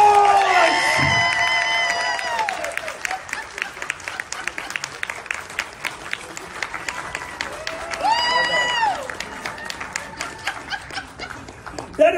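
A live audience claps continuously for about twelve seconds, with loud whoops and shouts at the start and again around the middle, and the applause thins out toward the end.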